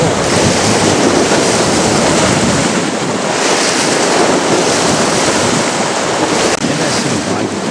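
Water churned and thrown up by the large container ship MSC Viga 3 gives a loud, continuous roaring rush of spray and surf, steady throughout with heavy wind buffeting.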